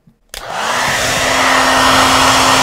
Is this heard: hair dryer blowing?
yes